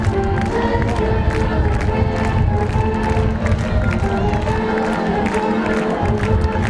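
A big crowd roars and cheers continuously after a touchdown at a chilly Friday night high school football game, loud and dense, with scattered clapping and shouts throughout.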